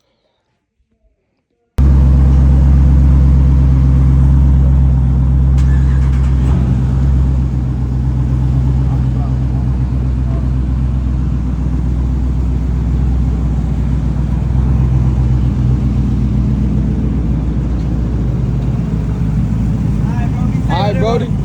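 Loud, steady engine drone from a Dodge Trackhawk or cammed Scat Pack or Camaro SS on a road trip, starting abruptly after a short silence and holding a deep rumble throughout, with voices talking over it.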